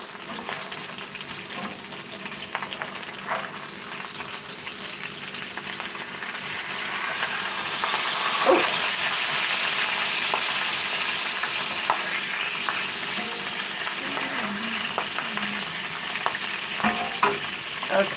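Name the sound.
steak frying in a pan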